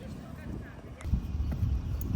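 Hooves of a wild, lively horse at a Russian horse ranch thud and clop on the ground, a loose run of low, close beats that grows louder partway through, mixed with people talking.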